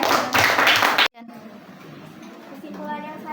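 Classroom clapping during a school presentation, a short loud burst of several children applauding that cuts off abruptly after about a second, followed by quieter room noise and faint voices.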